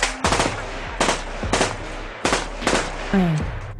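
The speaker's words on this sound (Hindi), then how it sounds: "दोनों ओर से फायरिंग होने लगी।" Rapid bursts of gunfire ring out in several volleys, loud and close, with short gaps between the crackling shots.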